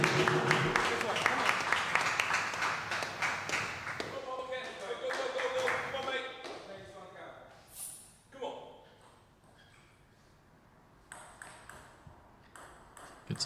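At a British Premier League table tennis team match, crisp ball pings and taps give way to clapping and cheering from the crowd and bench, with a commentator speaking over the rally and applause.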